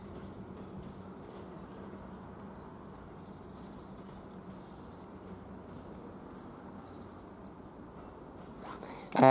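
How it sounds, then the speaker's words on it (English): A long freight train at March railway station, a steady low rumble holding evenly throughout, with a sharper louder burst right at the end. "It's quite a long train for a freight train sort of some sort."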